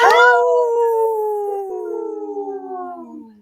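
Several women imitate wolf howls together on a live radio show, one long sliding howl that starts strong and slowly falls in pitch, wavering toward the end.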